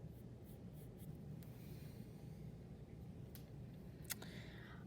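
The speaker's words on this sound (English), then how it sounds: "we'll kind of draw an indent like this" Pencil drawing a self-portrait on paper, faint scratchy strokes over a low steady background hum, with one brief sharper tap near the end.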